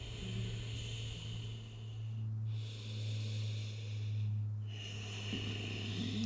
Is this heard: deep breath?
yes